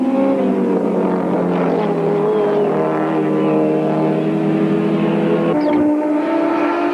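Modified Rothmans Audi race cars at Goldfields in the 1993 Wesbank Modifieds, engines droning loud and steady with a sustained tone that shifts pitch abruptly near the end as the cars race past.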